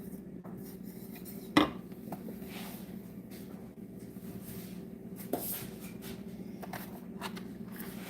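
A pot on the stove being stirred, heard as soft scraping and occasional light clinks of a utensil against the pot, with one sharper knock early on, fairly quiet overall.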